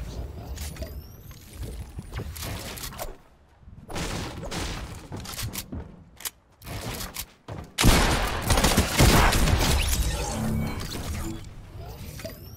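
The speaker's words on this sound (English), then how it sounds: "I'm missing way too many shots right now." Gunfire in an online solo battle-royale shooter, with repeated bursts and single shots crackling over game ambience at close range, loud and irregular across the stretch, with intermittent rapid volleys.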